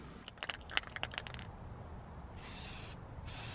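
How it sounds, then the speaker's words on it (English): A few rattling clicks from a can of spray paint with built-in primer, then two bursts of hissing spray separated by a short pause, close by and fairly quiet. "I'm going to use spray paint because it has the primer in it"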